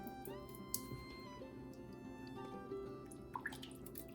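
Canned French onion soup pours from the can into a cooking pot: soft, wet dripping and glugging that stays faint under steady background music.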